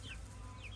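Chickens on a hot farm, panting and struggling in the heat, give two brief clucking calls over steady low background noise, with no talk.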